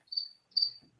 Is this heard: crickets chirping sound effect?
yes